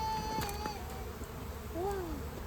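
Honey bees hum and buzz around an opened hive at a teaching apiary, a faint steady drone with a few rising and falling whines of individual bees passing close.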